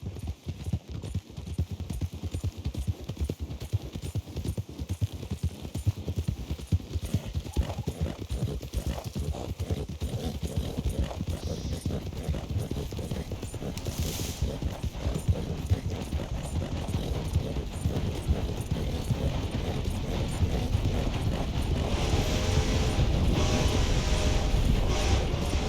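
Horse hoofbeats from Red Dead Redemption 2, a steady clip-clop of galloping hooves running throughout, loud and close, with a brief whinny and rising outdoor ambience toward the end.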